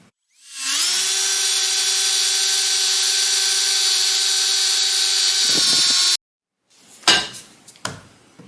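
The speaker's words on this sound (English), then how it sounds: "we're going to drill a hole here, one center and one on the end" A power drill whines steadily for several seconds at high speed, drilling a hole in a wooden workbench beam, then stops abruptly, followed by a couple of short knocks and rattles.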